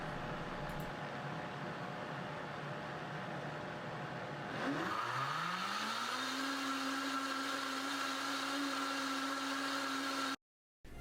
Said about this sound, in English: Turn the knob to the clean mode and press the start switch.